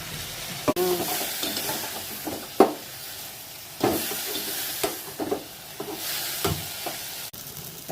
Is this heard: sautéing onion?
yes